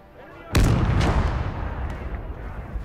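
Artillery fires in a World War II video game set among hedgerows: one loud, close blast hits suddenly and then rolls into a long, fading rumble with a few smaller cracks after it.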